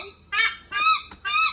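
A large bird in a zoo enclosure, native to Australia and Southeast Asia, lets out three loud, close, harsh honking cackles in quick succession, each a strained nasal call separated by brief pauses.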